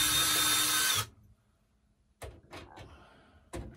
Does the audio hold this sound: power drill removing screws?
yes